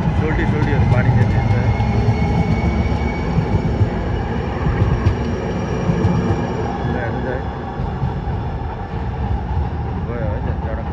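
An electric metro train passes along a downtown street, producing a steady, loud, broadband rumble and rolling roar that holds for the whole stretch without a break.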